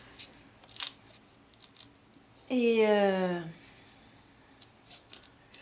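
Scissors slice through shuriken material in a single rasping cut lasting about a second, close to the microphone, amid quiet handling clicks and a brief spoken word.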